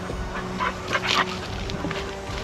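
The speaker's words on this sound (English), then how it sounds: "The dog thinks it's a playground." A dog whimpers and yips in short, fairly close bursts while exploring an old boiler on a historic bush walking track, with steady outdoor background noise throughout.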